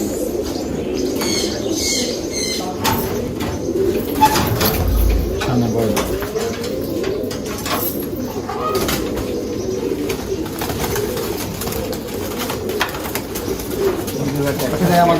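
Pigeons in a large loft holding around two thousand birds coo continuously in a dense, layered chorus, with occasional wing flaps and chirps heard close by throughout.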